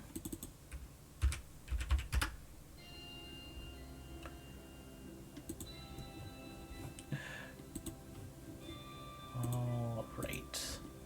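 Typing on a computer keyboard while digital tentacle art is designed, with irregular clicks and clustered rapid keystrokes set against sustained tonal background sounds.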